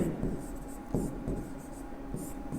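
Chalk or a marker scratches across a board during a physics lecture on the refraction of light, giving soft, close, continuous strokes with a faint background hum.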